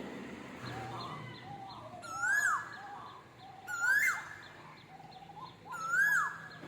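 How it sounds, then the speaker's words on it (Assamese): An Asian koel calls three times in rising, swooping whistles spaced a couple of seconds apart, clear over a soft outdoor background hum. "মাতি আছে শুনিবচোন দি কলি চৰাইৰ মাতটো"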